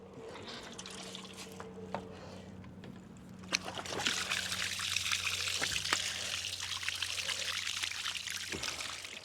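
River water pours and splashes continuously out of tubes being flushed, growing fuller and louder partway through, with trickling and dripping over a low engine-like hum.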